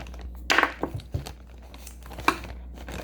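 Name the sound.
ripping open kinetic sand packaging by hand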